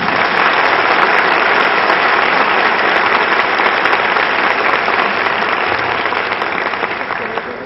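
Sustained, loud applause from a congress audience after a minister's speech on public management, dense and even throughout before tapering slightly at the end, with no talking.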